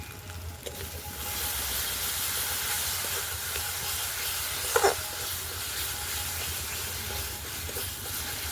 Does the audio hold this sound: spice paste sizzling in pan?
yes